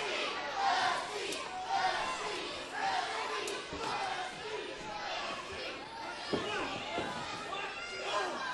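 A wrestling crowd at a WAR cage match between Dusty Dillinger and Kaden Assad keeps up a dense roar of chatter and cheering, with scattered shouts rising and falling across the whole stretch.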